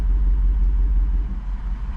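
A 2023 Jeep Wrangler Rubicon 392 with its exhaust valves closed gives a steady, subdued low engine rumble, close and continuous, dipping slightly in level toward the end, with no voices.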